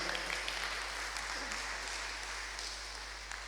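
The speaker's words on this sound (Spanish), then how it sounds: "¿Por qué no le da un aplauso?" Church congregation applauding during a sermon, a steady dense wash of many hands clapping at moderate distance, fairly even in level throughout without voices standing out.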